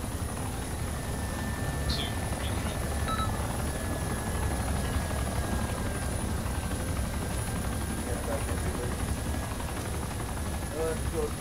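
Helicopter rotor and engine drone in the Arma II game as it sets down hard in a courtyard, a steady loud wash throughout with a faint voice underneath.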